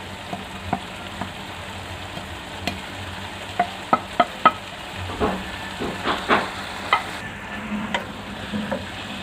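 Ground spices (coriander powder, chili powder, garam masala, salt) frying with chicken in a pan, a steady low sizzle broken by scattered sharp clicks and scrapes of stirring, close and moderately loud with no talk.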